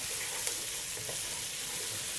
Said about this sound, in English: Now that you can hear everything is sizzling